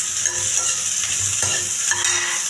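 Shallots, mustard seeds and halved dried red chillies sizzle in hot coconut oil while being stirred, a steady close-up crackle with soft scraping strokes throughout and no talk.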